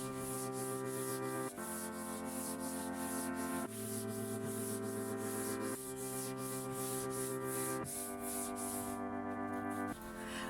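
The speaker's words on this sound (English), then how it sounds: "When I'm done sanding, I go over with a fine sanding block for a smooth finish." Steady rhythmic rubbing of a fine sanding block on a wooden nightstand, back-and-forth strokes in even bursts about every two seconds, close up with no talking.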